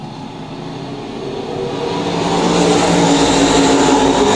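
Race cars accelerating out of turn 4 on a racetrack, a loud steady engine roar that swells as the cars come off the corner, heard alone with no talk.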